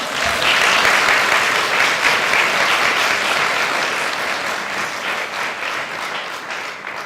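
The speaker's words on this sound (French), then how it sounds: "on l'applaudit bien fort" An audience at a theatre festival performance applauds in a dense, steady wash of clapping that stays loud and then slowly thins toward the end.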